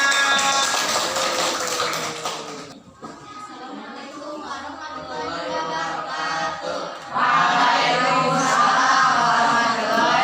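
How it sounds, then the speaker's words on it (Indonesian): A classroom audience claps for a presenting student group, a sustained burst of applause that dips briefly and then swells again, mixed with voices from the room. "Tepuk tangan dulu untuk kelompok 3"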